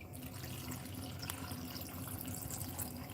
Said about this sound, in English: And we're also going to add some water to that.